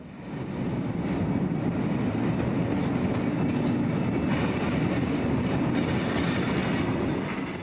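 A freight train loaded with ballast stones rolls slowly across the new Pamban rail bridge on a test run, giving a loud, steady rumble with a faint rhythmic wheel clatter and no voices.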